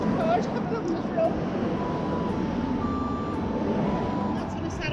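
Cars and traffic on a busy road in Dublin make a steady, close rumble of passing vehicles, with a faint tonal beep riding over the wash.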